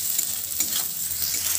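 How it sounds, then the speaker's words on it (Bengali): Chopped onion fries gently over a medium-low flame in a short, soft, even sizzle with faint stirring, close and quiet. "গ্যাসের ফ্লেমটা মিডিয়াম টু লোতে রেখে পেঁয়াজটা আমি একটু নরম করে ভেজে নেব।"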